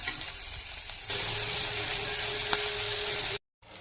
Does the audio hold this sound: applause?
no